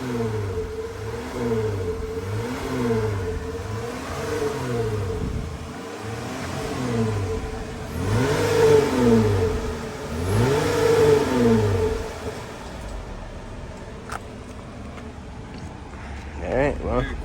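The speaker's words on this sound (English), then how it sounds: "Go ahead, give it some gas or some throttle." A Jeep Wrangler JL engine revs repeatedly, rising and falling in several throaty exhaust bursts over a steady idle, close and loud.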